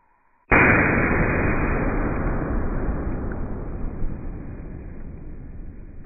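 A Tannerite charge set off by a 1.5 gram firecracker, played back slowed down, hits as one sudden deep boom that decays into a long, low rumbling roar lasting several seconds.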